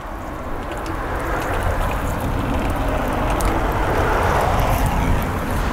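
Water from a fiberglass pole rinses a window mullion in a continuous splashing, pattering wash close by, steady and fairly loud throughout with no talk.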